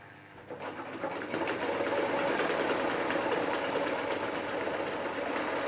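Alpha sewing machine stitching upholstery for a vintage truck seat, a steady fast mechanical whirr and chatter starting after a quiet moment and running on close and continuous.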